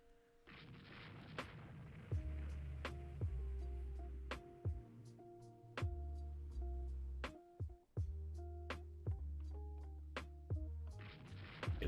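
Naval gunfire in the warship game Rule the Waves 2, 6-inch guns firing, a series of about a dozen booming shots at irregular intervals, each with a long rumbling tail over a steady background hum.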